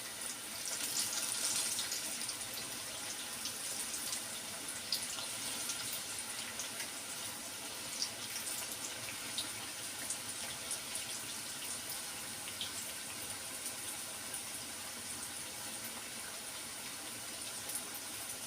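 Eggplant slices frying in hot oil give a steady, close sizzling hiss with dense bubbling that holds evenly throughout, with no voices.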